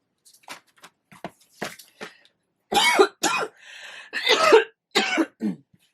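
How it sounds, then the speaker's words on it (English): A woman coughs in a run of sharp, close bursts. Softer throat-clearing sounds come first, then heavier, louder coughs follow in quick succession. "I don't know why I'm coughing like this."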